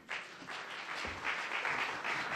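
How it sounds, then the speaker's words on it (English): A forum audience applauds panel speakers at a health coverage session in Tokyo, a steady wash of many hands clapping that swells slightly and carries on without pause. "please give them a loud round of applause"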